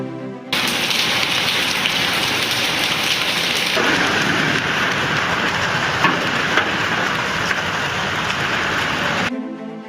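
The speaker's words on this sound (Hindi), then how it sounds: "तेज आंधी के साथ मूसलाधार बारिश और ओलावृष्टि हुई है" A heavy, unseasonal downpour with hail and strong wind strikes northern India. Dense rain hisses loudly and continuously from start to finish, with a few sharper impacts mixed in and no voices.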